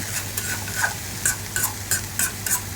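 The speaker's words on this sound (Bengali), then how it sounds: "আমি এর মধ্যে শাকগুলো দিয়ে মরিচ পেঁয়াজের সঙ্গে খুব সুন্দর করে মিশিয়ে দেব" Greens with chili and onion are stirred in a frying pan, a spatula scraping in quick, roughly regular strokes over a soft, steady sizzle.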